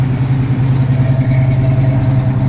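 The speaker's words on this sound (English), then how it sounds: "Good sound, Flowmaster dual exhaust." A 1974 Pontiac Firebird Formula with a 455 V8 and Flowmaster dual exhaust idles close by, a loud, steady, deep burbling rumble with an even low pulse and no speech.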